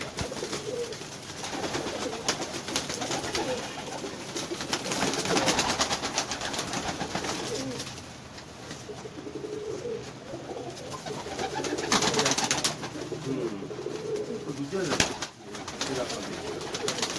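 Fancy-breed pigeons coo softly and repeatedly in Chunian, Pakistan, against a busy, noisy outdoor background, with someone talking over the birds throughout.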